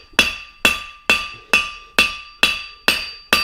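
A blacksmith's hammer strikes metal on an anvil in eight evenly spaced ringing blows, each with a bright metallic ring that decays before the next, close and loud with no talk.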